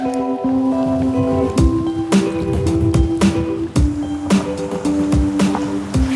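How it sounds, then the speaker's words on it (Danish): Small waves and choppy water wash steadily at sea in Lillebælt, with a continuous surf hiss and irregular splashes and knocks close by, no talk. "Lidt bølger og uro i vandet"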